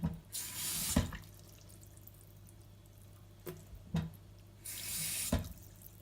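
Cold tap water runs into a pan of rinsed rice in two separate bursts of steady hiss, each ending with a short clunk, with a quiet pause between them.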